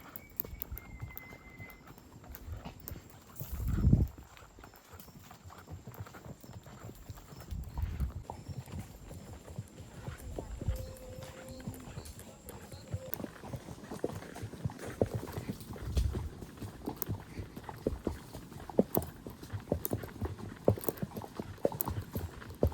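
Horse hooves clip-clop steadily at a walking pace, fairly close, with a louder thump early on and faint outdoor background.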